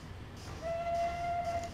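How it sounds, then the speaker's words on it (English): Arriving train in the Transport Fever game, a steady whistle-like tone holding for about a second after a low rumbling start, fairly faint and without any speech. "That is a very noisy train coming in right now."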